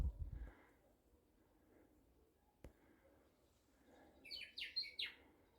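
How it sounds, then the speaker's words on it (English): Faint, quiet New Zealand bush ambience with a short burst of high, bright banana bird calls near the end, distant and brief. "Plenty of banana birds you can hear in the background."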